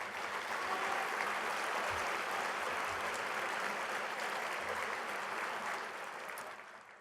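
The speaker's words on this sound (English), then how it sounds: "give yourselves a round of applause for that" Audience at a student veterans' organization address applauds steadily for about six seconds, a dense, even wash of clapping that fades away at the end.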